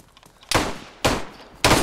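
Gunfire in DayZ, three loud sharp shots spaced about half a second apart, each bursting out over quiet background.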